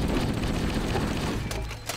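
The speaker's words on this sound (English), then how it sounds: "Or one pistol shot." Gunfire crackles in the shooter video game Halo: Combat Evolved, with a dense, close burst of pistol shots and impacts filling the whole two seconds, no voices over it.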